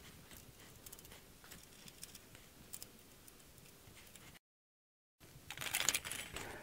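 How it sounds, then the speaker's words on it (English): A log deck jack is put back together, giving faint metallic ticks and ratcheting clicks, then a brief gap of silence followed by a louder scraping, clattering burst at close range. "Reassemble the jack"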